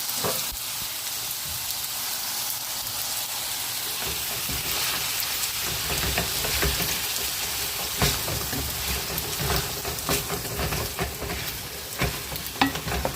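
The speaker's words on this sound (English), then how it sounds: "The famous stir fry." Stir fry sizzling and frying in a skillet with soy sauce, a steady close hiss with scattered crackles and stirring scrapes throughout, no voices.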